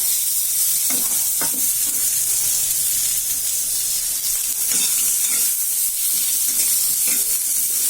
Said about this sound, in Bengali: লাউটা একটু হালকা করে কষে নিয়ে আমি ফোড়ন দিয়ে দেবো ডালে।